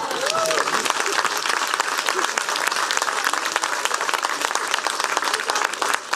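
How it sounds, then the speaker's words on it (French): Outdoor park crowd at a magician and mentalist show at Pairi Daiza applauding, dense continuous clapping close and loud, with a brief voice near the start. "Merci beaucoup pour vos applaudissements."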